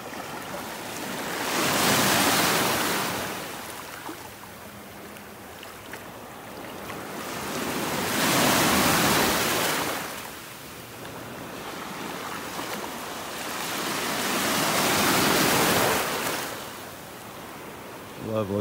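Gulf ocean waves washing in and out on a North Naples, Florida beach during a Sunday morning walk; three slow swelling surges of surf rise and recede in a steady rhythm over a constant soft roar.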